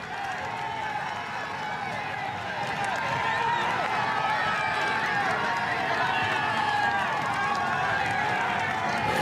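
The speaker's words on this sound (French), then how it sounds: "écoutez la foule" Large roadside crowd at the Tour de France 2012 prologue in Liège roars continuously, a dense wash of cheering and shouting that swells slightly after a few seconds and holds loud throughout, with scattered voices among it.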